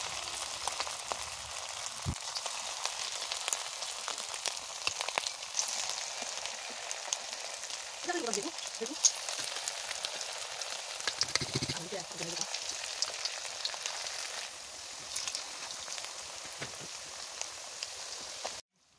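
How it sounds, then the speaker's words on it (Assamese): Continuous soft sizzling of chicken pakora pieces frying in hot oil, close and fairly quiet, with a few brief scrapes partway through. "এনেকৈ মই উলট পালট কৰি প্ৰায় 15 মিনিটৰ পৰা ভাজি আছোঁ"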